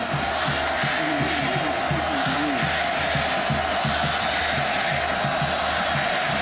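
A large stadium crowd at Auburn during a South Carolina versus Auburn college football game roars after a touchdown, a dense sustained wall of cheering and shouting with a steady pulsing chant underneath.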